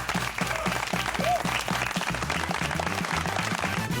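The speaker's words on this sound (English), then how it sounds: "give yourselves a round of applause" Contestants and audience applauding at a brand ambassador competition finale, dense clapping under a rhythmic musical beat with a thumping low pulse, loud and sustained throughout.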